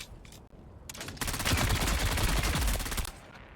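An automatic weapon fires a sustained, rapid burst in Dune: Awakening, loud and close, the shots rattling evenly for about two seconds after a few brief earlier sounds.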